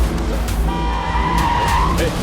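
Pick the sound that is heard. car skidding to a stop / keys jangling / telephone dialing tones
car skidding to a stop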